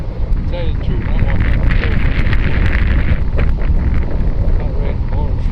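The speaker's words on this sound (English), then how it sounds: "it's a little hot out here, and it's very windy" Strong wind buffets a microphone outdoors in hot weather, a loud continuous roar and rumble with gusty swells throughout, while voices talk faintly underneath.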